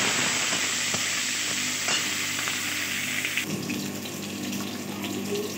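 Cauliflower frying in a pan with bay leaf, a steady close broadband sizzle that runs throughout, briefly disturbed midway as though stirred.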